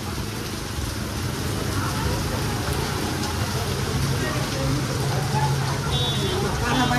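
Heavy rain pours down on a town street around a main square during flooding, a dense steady hiss filling the scene with distant traffic and voices faintly beneath.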